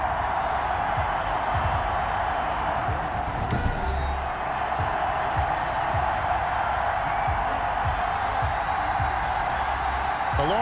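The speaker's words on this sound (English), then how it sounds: "They love their football in this part of the country, and this crowd is ready to go" A stadium crowd in Madden NFL 21 keeps up a dense, loud roar of cheering throughout, with a brief sharper burst near the middle.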